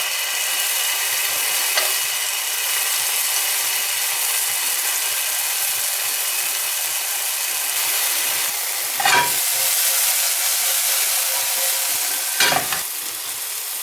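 Beefsteak fungus frying in a pan as it cooks and darkens gives a steady, close sizzling hiss throughout, broken by two short scraping stirs near the end.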